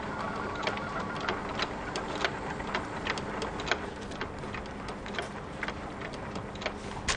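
An HP Photosmart C4340 copy, scan and fax inkjet printer running in an office, a quiet continuous mechanical whir with rapid ticking clicks and small periodic clatters, no voices.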